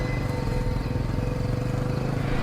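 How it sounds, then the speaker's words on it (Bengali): A motorbike engine drones steadily on a quiet night road, a low rumbling hum that holds at an even level throughout without fading. "বাইকটা একটু দূরে গেল।"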